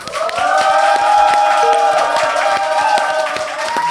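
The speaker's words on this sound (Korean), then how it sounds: "여러분의 힘찬 박수와 함께 시작하겠습니다" A studio audience bursts into steady, loud applause to open the Mamais current-affairs talk show, dense clapping that carries for several seconds over a sustained musical tone.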